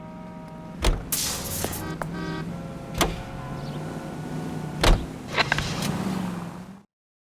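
A car drives in the game L.A. Noire with a low, steady engine hum, broken by a few sharp thuds and clicks, before dropping into silence at the end.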